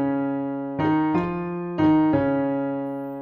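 Piano plays the closing phrase of the first verse of a song, a few sustained chords struck one after another and left to ring, close and clear with no talking.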